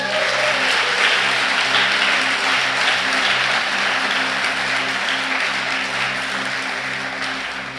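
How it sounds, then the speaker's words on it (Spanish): Steady, loud congregation applause at a church service, dense clapping sustained for around eight seconds with a low musical hum underneath, slowly tapering toward the end. "Y dale un aplauso"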